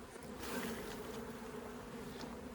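Honeybees buzz close by during a fall hive inspection as frames are handled, a steady dense hum with a low droning tone, alone with no talk.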